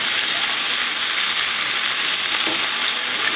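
Frozen peas sautéing in a pan, giving a steady, close sizzle and crackle that stays even and unbroken throughout, with no talk.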